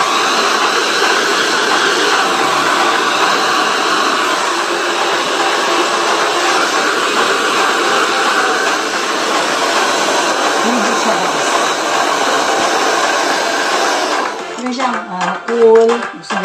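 A newly unboxed hair dryer blows with a loud, steady, close-up whoosh for most of the time, then switches off, leaving brief clatter and handling noise.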